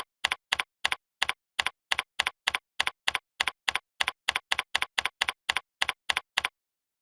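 Someone types an element name on a computer keyboard: about two dozen crisp, evenly spaced keystrokes, close and isolated, each separated by silence.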